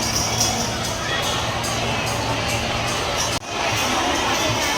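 A huge crowd fills a Shiv Mahapuran Katha pandal in Deoghar on an evening, a steady, dense wash of murmuring voices and babble with a brief dip in the noise near the end.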